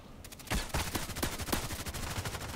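Sustained automatic gunfire in a video game, aimed at the player's position: a dense, steady rattle of many shots, moderately loud and slightly distant, with no voices.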